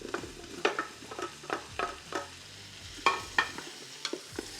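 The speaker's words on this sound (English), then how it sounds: "Let's give this a mix for a little bit." Brisket is stirred into chili in a Ninja Foodi pot, the spoon scraping and clacking in an irregular rhythm over a soft sizzle, close up with no speech.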